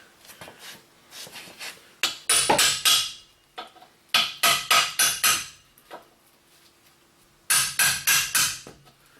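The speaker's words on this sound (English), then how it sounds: "Got the punch and the hammer. We'll see what happens with that." A hammer strikes a punch on the stabilizer bar of a 2001 Buick Century in three loud bursts of four to six sharp metallic blows, with softer taps and pauses in between and no talk.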